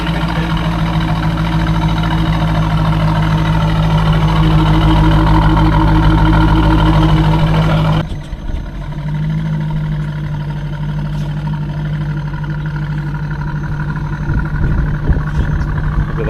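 A Corvette C5 V8 fitted with a Borla ATAK exhaust idles close by, a loud, steady low rumble that dips and settles to a slightly lower burble partway through.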